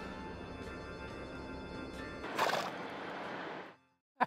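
A four-year-old horse whinnies in a long, loud, shaky neigh that rises to a peak and trails off, followed by a brief sharp knock.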